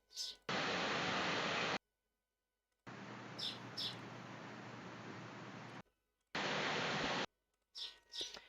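A recording of a burbling waterfall plays as steady, faint rushing water in three separate stretches with silent gaps between them. Light bird chirps come through above the water.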